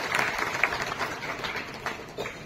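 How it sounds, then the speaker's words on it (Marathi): Applause from a crowd at a Marathi political rally, a steady dense wash of clapping that holds fairly even throughout, heard from within the audience. "आता तुमच्या टाळ्या मला झोप येऊन देणार नाही"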